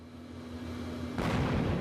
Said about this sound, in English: This video appears to show a series of explosions near the Donetsk region.